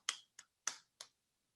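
Four sharp, close hand claps spaced about a third of a second apart ring out in a chemistry classroom at the end of a reaction-rates lesson, with no talk.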